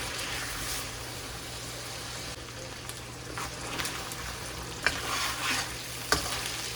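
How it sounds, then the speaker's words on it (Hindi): Green chilies frying with chicken pieces in a karahi, a soft continuous sizzle with stirring scrapes and a couple of sharper clinks of the spoon on metal, without talk. "इन हरी मिर्चों को भी इसके साथ ही ऐसे फ्राई करना है"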